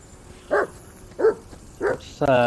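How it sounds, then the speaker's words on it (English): A dog in the medieval video game Kingdom Come: Deliverance 2 gives three evenly spaced, fairly loud barks, and a voice begins speaking right after the last one. "Hey, call off that dog and then we can talk."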